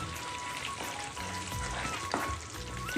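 Jackfruit curry with garam masala crackles quietly in a pan. A soft continuous sizzle runs throughout, with only faint traces of movement beneath it.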